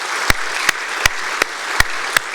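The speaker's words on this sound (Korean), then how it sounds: "여러분들을 함께 박수로 축복합시다." A church congregation applauds during a Sunday evening service, with a steady patter of many hands punctuated by sharp, evenly spaced louder claps about every third of a second, sounding like the group settling into a rhythm.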